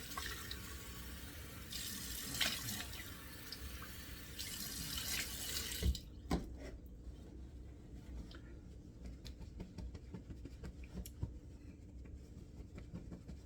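Cold water runs from a bathroom tap into the sink for several seconds, a steady hiss and splash that stops abruptly, then faint drips and small clinks in a quiet room.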